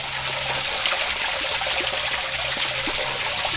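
Spring water trickles and gurgles steadily at a sacred spring, a continuous close, moderately loud flow without pauses.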